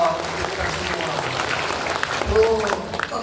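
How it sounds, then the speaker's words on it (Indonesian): An audience claps together at an Indonesian Islamic manaqib lecture gathering. The clapping is steady and fairly loud throughout, with voices mixed in. "Tepuk tangan dong."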